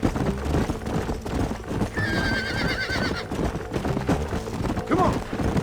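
Horses gallop and neigh in the Western video game Red Dead Redemption Remastered, with steady drumming hooves under a dense soundtrack and sharp whinnies rising near the middle and again toward the end.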